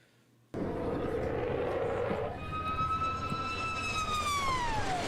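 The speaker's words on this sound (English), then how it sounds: "it's famous for a strange howling" A Su-57 Felon stealth fighter in Battlefield 6 RedSec roars in with a broad rushing engine noise, then a strong, eerie howling whine rises over it and slowly bends downward in pitch, sustained and fairly loud.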